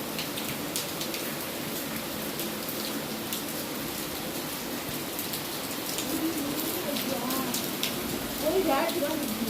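Steady rain patters down across the whole stretch, a dense hiss of drops hitting surfaces, with faint voices and a few brighter splashes near the end.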